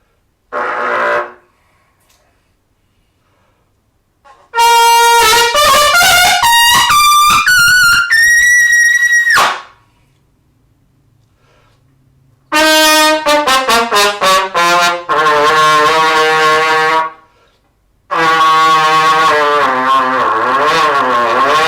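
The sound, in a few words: brass instrument playing low notes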